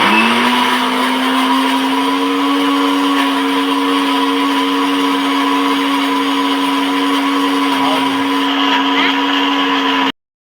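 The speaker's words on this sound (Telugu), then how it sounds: "ఉల్లిపాయను టమాటాలని ఈ విధంగా మిక్సీ చేసుకున్న మిక్సీని పక్కన పెట్టేసుకుందాం" Kitchen mixer grinder blending onion and tomato, a loud steady motor whine running continuously for about ten seconds before cutting off abruptly.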